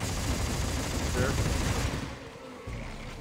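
A gigantic boom cannon fires in the Dead Space 3 video game, a dense, loud burst of heavy gunfire that fills the first two seconds and then cuts off into quieter game ambience.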